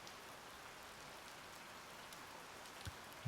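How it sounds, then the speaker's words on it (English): Rain falls as weather in the video game Pompeii: The Legacy, a steady, even hiss of light rainfall with a few faint drop ticks, continuous and alone, without voices. "So as you can see, there's weather patterns as well. So we have a bit of rain happening."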